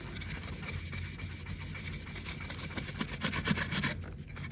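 A baby wipe rubbed gently over a dirty back part of a Homedics ultrasonic humidifier, giving a faint, close, steady scratchy rubbing with short repeated strokes.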